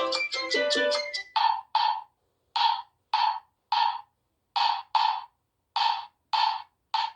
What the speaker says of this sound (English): They all are composed around the 5-beat rhythm known as the clave,